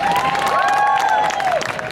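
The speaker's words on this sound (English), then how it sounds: "Let's give a big round of applause to Michael Gianaris." Crowd applause and cheering at an outdoor St. Patrick's Day parade event in Queens, steady and loud with a whistle-like tone sliding through, running the full stretch.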